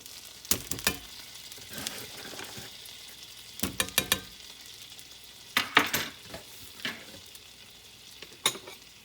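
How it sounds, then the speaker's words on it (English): Flour stirred into hot butter in a pan sizzles softly and steadily, broken by repeated sharp scrapes and clinks of the utensil against the pan; close and fairly quiet, no talking. "we're going to add 2 tablespoons of all-purpose flour"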